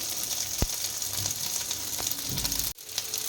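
Crab roe and rice fry in a pan, giving a steady close sizzle with a few sharp clicks and a brief dip near the end.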